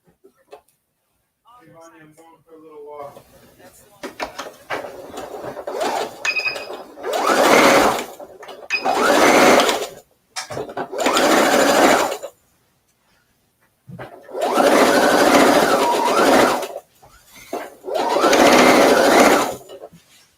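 Sewing machine stitching the side seam of pants made from an upcycled men's shirt, several loud, steady whirring bursts of a few seconds each separated by short pauses, with brief quiet handling sounds at the start.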